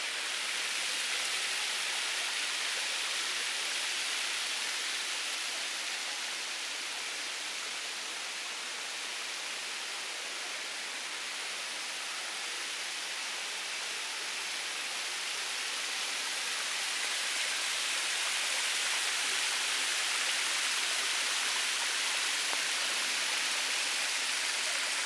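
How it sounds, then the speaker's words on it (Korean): Falling water from an indoor waterfall in a nearly empty international airport terminal gives a constant, even hiss with no other sounds, soft and continuous throughout. "그래도 폭포는 물은 떨어지네."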